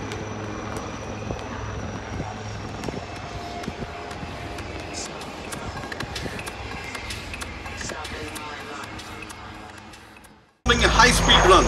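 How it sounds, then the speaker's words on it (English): Dassault Rafale twin-engine delta-wing fighter jet performing a flying display at Aero India 2019, a steady loud engine roar sustained for about ten seconds, fading briefly before a sudden louder blast of jet noise at the end. "A twin-engine, delta-wing, fourth-generation fighter aircraft, Rafale is a multirole combat aircraft"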